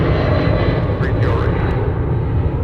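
An airliner rolls for takeoff on runway 30 left at Minneapolis–St. Paul airport, a loud, steady broadband engine roar that fills the whole clip, with a faint radio voice mixed under it.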